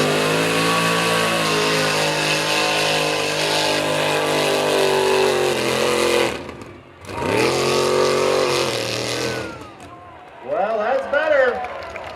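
A mud bog truck engine revs hard at a Buck Motorsports Park mud bog grand finale, a loud sustained roar that drops out briefly, surges back, then gives way to rising and falling rev sweeps near the end.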